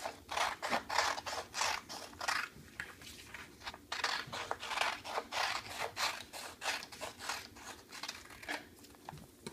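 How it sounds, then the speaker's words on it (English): Scissors snip repeatedly through two stacked sheets of paper while cutting out an egg shape, giving a steady series of close, crisp cuts with faint rustling and no talk. "you're going to cut out a shape of an egg"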